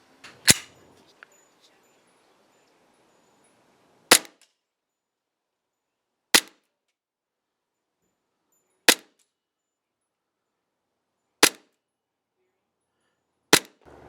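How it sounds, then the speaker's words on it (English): Single shots from an ICS BLE Alpha gas blowback airsoft pistol on a range, fired about six times at slow, irregular intervals of two to three seconds. Each shot is a sharp, loud, close crack, with quiet between shots. "let's put some rounds through it, and let's actually see how this thing shoots"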